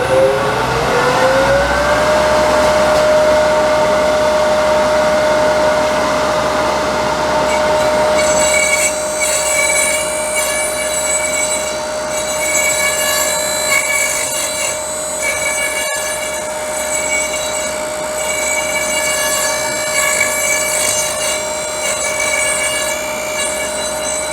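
A drill bit cutting threads into a wooden box on a threading jig, a loud sustained grinding whine that rises in pitch at the start and then holds steady, with a harsher rubbing, squealing texture joining partway through.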